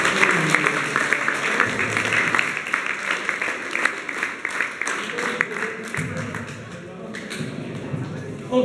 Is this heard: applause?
yes